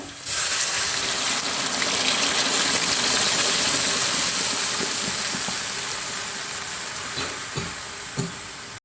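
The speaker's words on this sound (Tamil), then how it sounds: "நல்லா வாசம் வந்தோடனே இந்த வெங்காயத்தை ஊற்றிடுங்க." Onions frying in hot oil for a vegetarian Malaysian nasi lemak sambal make a continuous, close crackling sizzle that fades slightly toward the end.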